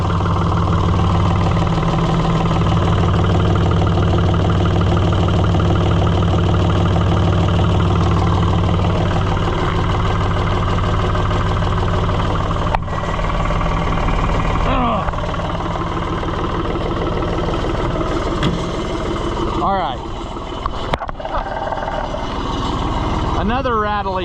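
A New Holland TN75DA tractor engine idles loud and steady up close, with a metallic rattle running through it and some clanking toward the end.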